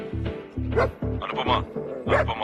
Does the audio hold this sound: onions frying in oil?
no